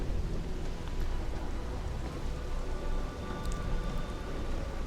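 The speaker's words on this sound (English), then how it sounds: "It doesn't always rain in Neon. I think it's quite rainy, which really helps the whole Cyberpunk vibe." Steady rain falling across the streets of Neon, the neon-lit cyberpunk city in the video game Starfield, a dense continuous patter that stays even and fairly loud throughout with no voices.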